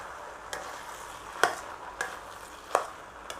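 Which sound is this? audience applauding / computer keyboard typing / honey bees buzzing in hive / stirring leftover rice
stirring leftover rice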